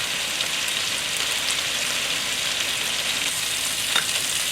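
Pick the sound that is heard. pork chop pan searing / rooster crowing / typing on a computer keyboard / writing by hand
pork chop pan searing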